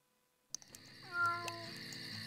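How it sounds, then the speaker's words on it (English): Inside the game Vampire: The Masquerade - Bloodlines, a cat gives a single drawn-out meow over soft in-game ambience and a few clicks, fairly close and moderately loud. "little kitty cat"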